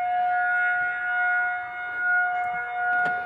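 Federal Signal FS 2001 outdoor warning siren sounding a test near a house, a loud steady sustained wail with a few layered tones holding level throughout, no speech.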